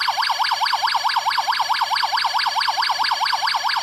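A Space Invaders LCD handheld game plays a loud electronic warbling tone sampled from the arcade machine, a rapid rising-and-falling wail that repeats steadily and evenly without pause, heard alone.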